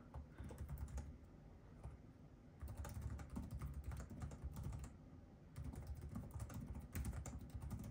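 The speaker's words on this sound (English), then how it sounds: "we'll do a little typing" Fast, steady typing on a Lenovo Legion 5 Pro 2023 laptop keyboard, close up, with a brief pause in the middle and another short break before the keystrokes resume.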